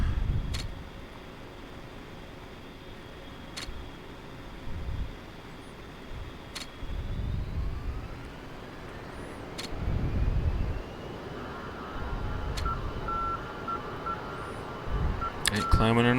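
An A-10C's jet engine spools up in a flight simulator, a low rumbling drone with a rising whine, overlaid by periodic clicks and beeps while someone speaks.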